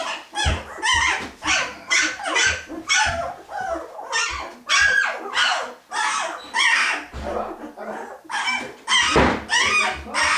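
Puppies and their mother dog, a Berger Blanc Suisse litter at eleven days old, fill the space with repeated barks, whimpers and yelps in a busy, overlapping stream, close and fairly loud, with no talking.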